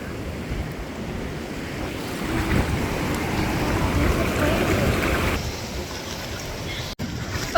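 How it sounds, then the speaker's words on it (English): Ocean waves washing onto the beach at El Espino, a broad continuous surf roar that swells and eases, heavy with wind buffeting the microphone and no voices. "You can see all the waves."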